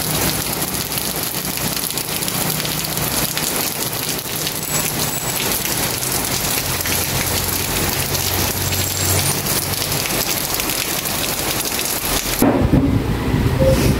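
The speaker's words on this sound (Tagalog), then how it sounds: "saka naman umulan" Steady heavy rain pours down on surfaces during a prolonged downpour affecting rice fields, with a low rumble of thunder underneath; the dense hiss continues without a break and no one speaks.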